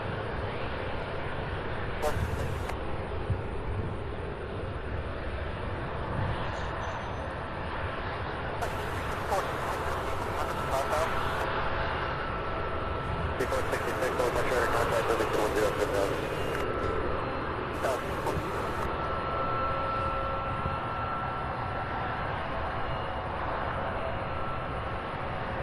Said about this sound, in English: Yeah, an A300 pushing back now.